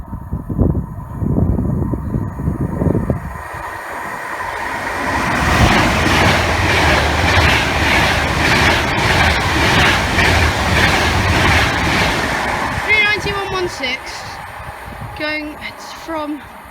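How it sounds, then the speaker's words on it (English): Avanti West Coast Class 390 train running through Cheddington on the West Coast Main Line, a loud passing rush that builds and holds for several seconds, with someone talking before it arrives and faint tonal squeals as it fades. "Okay, I've got an Avanti West Coast Class 390 going to Liverpool Lime Street."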